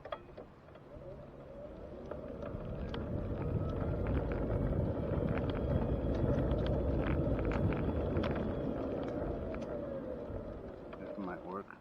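Heavy wind buffets the microphone outdoors, a constant low roaring rumble that swells and stays loud for several seconds, with faint clicks and handling noises over it.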